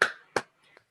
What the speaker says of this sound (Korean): 박수예요.